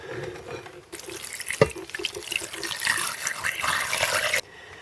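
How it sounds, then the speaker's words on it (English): Tap water runs into a pot of bone broth with sea salt, a sudden broad rush that starts after a second and continues steadily, rising slightly as the pot fills, then cuts off abruptly. "and then top it up with water."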